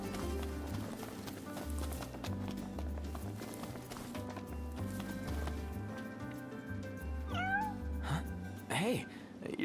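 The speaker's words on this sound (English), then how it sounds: "Hey, you're the cat we saw in Galden." A cat meows in Final Fantasy XV, a few short rising calls near the end over a steady rhythmic game music bed with clopping sounds.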